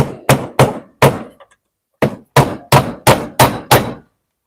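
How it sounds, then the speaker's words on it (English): Close, loud hammer blows with a sharp knock on each impact: four strikes, a short pause, then seven more in a fairly even rhythm, each dying away quickly, with no talking. "You can also have this one and hammer it."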